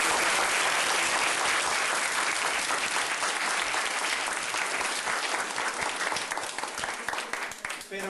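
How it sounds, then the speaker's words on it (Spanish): A hall audience at a book-donation ceremony breaks into sustained applause, a dense, even roar of many clapping hands that holds for several seconds before tapering off into a few last scattered claps. "le demos un fuerte aplauso."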